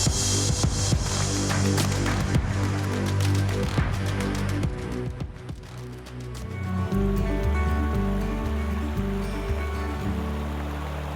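Rain shower falling during salmon fishing in Newfoundland, a broad steady hiss of drops across the surface mixed with running water and scattered close rustles and knocks, filling the scene throughout.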